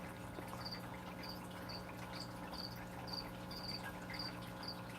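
Crickets chirp in a regular series of short, bright pulses, steady and moderately close, over a constant low background hum with no talking.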